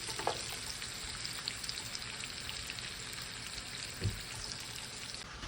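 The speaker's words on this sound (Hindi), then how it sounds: "अभी मैं प्रान फ्राई कर रही हूँ" Prawns frying in a pan make a faint, steady crackling sizzle with scattered small pops, heard alone and with no talk.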